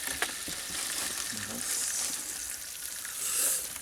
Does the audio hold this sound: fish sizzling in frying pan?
yes